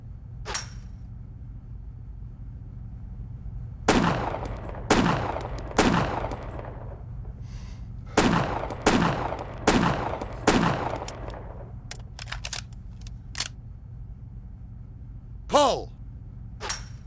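Video game gunfire at clay targets: sharp single shots, some in quick pairs, spaced irregularly across the stretch with quieter gaps between volleys. Voices and game audio come in now and then.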